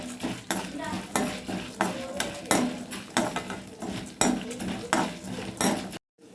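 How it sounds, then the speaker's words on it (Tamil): Peeled garlic fries in a pan while a metal spoon stirs and clanks steadily against the pan, the sharp scraping and knocking loud and close over a soft sizzle before a sudden brief silence. "பூண்டு உரிச்சு போட்டு நல்லா வறுத்துட்ருக்கேன்"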